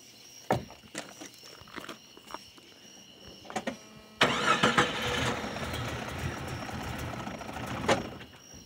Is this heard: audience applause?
no